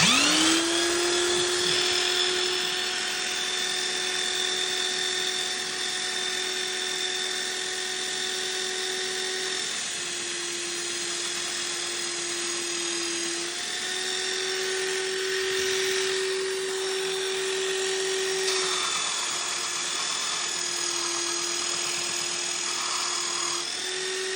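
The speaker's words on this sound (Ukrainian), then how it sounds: "Включаю наш наждак і буду вам показувати." A bench grinder whines at a steady high pitch while grinding down a metal gas heater part. The tone stays loud and continuous, with slight shifts in pitch as the part is pressed against the wheel, and no voices.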